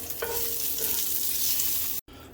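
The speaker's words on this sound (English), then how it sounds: "And I'm going to roast them real quick" Smashed garlic cloves roast in a hot pan with a loud, steady crackling sizzle and some light stirring scrapes, cut off abruptly near the end.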